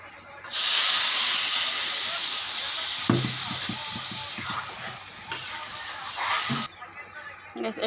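Water poured into a pan of frying rice for pulao, setting off a sudden loud hiss of steam that roars for several seconds then cuts off, with a voice speaking over part of it.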